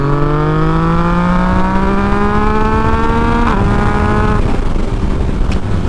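A Yamaha MT-09 motorcycle engine pulls hard, its steady rising tone climbing through a gear with a brief dip at a shift, loud and close throughout.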